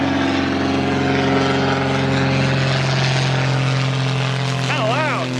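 A propeller airplane passes overhead near a workshop where a 1966 Ford F-250 is being worked on, its droning engine loud and steady throughout with a strong low hum, briefly joined by a whistle-like tone near the end.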